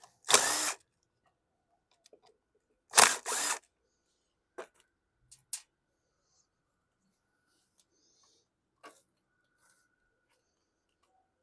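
A DeWalt drill fitted with a 7mm socket takes out carburetor bolts on a 2015 Troy-Bilt TB230 self-propelled lawn mower, whirring in short close bursts, two longer runs then brief taps and blips separated by quiet.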